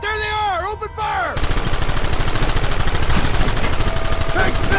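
Shootout gunfire in the Western video game Red Dead Redemption: after a short shouted line, a dense, rapid stream of shots rattles on steadily and loudly to the end.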